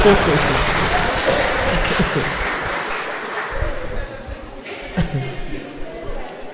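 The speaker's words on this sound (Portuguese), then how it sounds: "Gente, uma salva de palmas de novo" Audience applause at a Portuguese-language lecture on happy marriage in Araraquara, a dense wash of many hands clapping that starts loud and slowly fades, with a voice talking over it.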